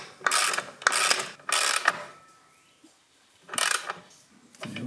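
A bushing being pulled into a John Deere 755 compact tractor frame with a puller tool: several bursts of close, harsh mechanical ratcheting and grinding, separated by pauses, with no voices.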